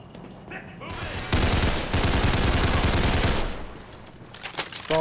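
Bursts of rapid video game gunfire crackle loudly for a couple of seconds, then trail off into quieter in-game noise with a few scattered shots at the end.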